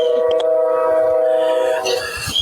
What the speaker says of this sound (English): There's my train right on time.